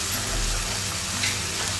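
Onions and tomatoes frying in a pan with ginger-garlic paste and ground green chillies, a dense, steady close-up sizzle with faint stirring.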